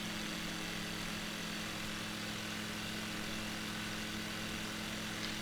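A small propeller airplane drones steadily from inside the cabin, its engine throttled back to a level cruise, a constant hum with no pauses.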